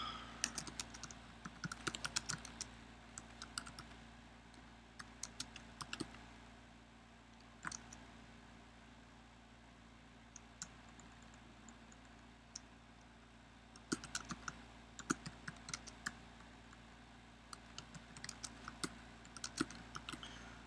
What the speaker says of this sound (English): Excuse my typing mistakes.